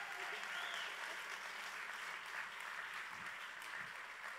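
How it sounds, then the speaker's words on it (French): A crowd at a song contest in Lillebonne applauds a young singer, a sustained, fairly distant wash of many hands clapping evenly throughout, with no speech over it. "on peut l'applaudir, s'il vous plaît, mesdames et messieurs"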